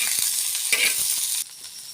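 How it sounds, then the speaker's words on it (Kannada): Okra sizzles and crackles steadily in hot oil in a kadai, a loud, even frying hiss with a brief stirring flare before it drops slightly quieter. "ಈ ರೀತಿ ಎಣ್ಣೆ ಹಾಕಿ ಚೆನ್ನಾಗಿ ಫ್ರೈ ಆಗಂಗ ಹುರಿಬೇಕು ರೀ ಫ್ರೆಂಡ್ಸ್."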